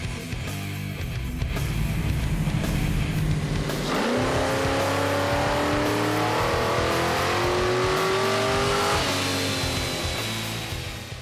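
A tuned Bandit Tribute Trans Am V8 roars through a dyno pull. It idles rough, then revs hard and climbs steadily in pitch for several seconds before easing off. The sound is loud and close, with no voices.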